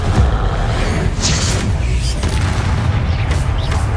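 A Confringo spell blast in the video game Hogwarts Legacy, a loud, deep booming burst with rumbling low end that fills the moment, dense and close, amid other spell effects.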